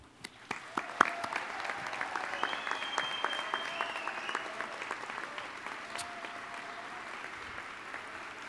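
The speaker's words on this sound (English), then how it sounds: "can we give the 2020 graduates a round of applause?" Audience applause for 2020 graduates at a university commencement, a steady crowd of clapping that swells quickly and then slowly fades, heard from a short distance.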